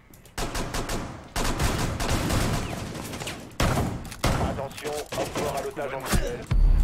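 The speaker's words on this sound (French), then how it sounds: "ouais, il y a quelqu'un qui a tiré" Rapid bursts of gunfire in Rainbow Six Siege, a tactical shooter, crack out in repeated volleys of sharp shots separated by brief pauses, loud and close.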